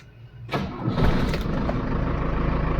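A Tata Sumo Victa DI diesel with a 407 engine and 132,000 km on it cranks and fires after a short pause, then settles into a loud, rough, clattering idle close to the microphone.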